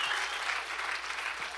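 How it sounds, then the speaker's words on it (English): A church congregation gives a clap offering during a worship service, a steady, distant wash of clapping that is fairly faint and continuous with no clear voices. "give the Lord a clap offering right now"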